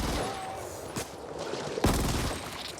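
Gunfire from a weapon in the video game Ascent, two sharp shots about a second apart standing out over a dense, noisy game soundscape.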